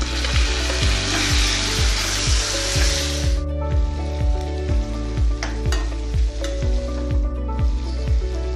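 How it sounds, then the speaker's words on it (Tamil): Chopped tomato and green chilies sautéing in hot oil for mint chutney, a steady loud sizzle with repeated rhythmic scrapes of a spatula stirring through the pan, no voices. "ஒரு தக்காளியை சின்ன சின்ன பீஸாக கட் பண்ணி சேர்த்து அதையும் வதக்கிக்கலாம்."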